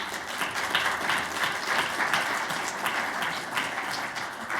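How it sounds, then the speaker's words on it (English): A symposium audience applauds in a dense, continuous wash of clapping that holds steady for several seconds. "please stand up so all of us can give you a round of applause"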